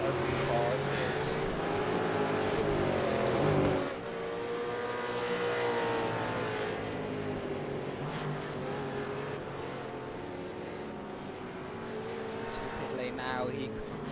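A race car engine in a sim racing game whines steadily as the car heads into the pit lane, its pitch sweeping and shifting under continuous commentary, with a sharp drop in revs partway through.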